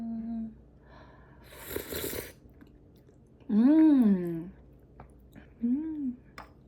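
Someone eats food close to the mic, with wet chewing and squishy mouth noises between short hummed, voiced sounds of enjoyment.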